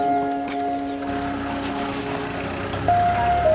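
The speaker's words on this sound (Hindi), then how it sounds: "काका की गाड़ी आ गई।" A car pulls up with a low engine rumble that starts after a second and swells louder near the end, mixed with steady tonal music in the background.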